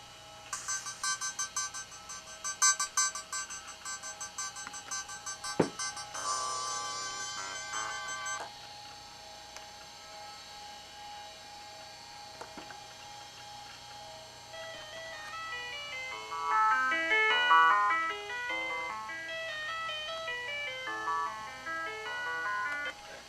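MIDI tune from the C-Media sound hardware of a Toshiba Tecra 8000 laptop: bright, synthetic melodic notes with quick runs and busy chiming phrases, a thinner passage midway, then denser note patterns, played alone without voices.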